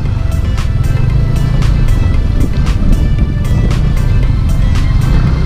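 A motorboat engine drones steadily and loudly on water near Dampalit Mega Dike in Malabon City, with a constant low rumble and splashing wash, no speech.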